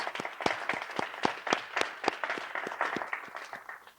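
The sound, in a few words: audience applause for honorees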